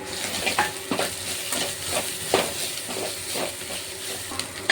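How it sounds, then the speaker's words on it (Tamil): Onions, ginger garlic paste, crushed pepper and cumin sizzle in hot oil for chicken bone rasam, with a steady hiss broken by repeated scraping stirs of a spoon against the pan. "நம்ம இடித்து வச்சுருக்க மிளகு சீரத்தை கிளறிக்கலாம்"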